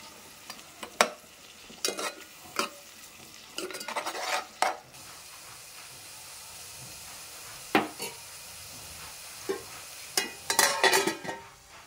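Ground onion and green chilli paste frying with tomato pieces for Hyderabadi chicken dum biryani, with a steady low sizzle and repeated loud spoon scrapes against the pan in irregular bursts, close.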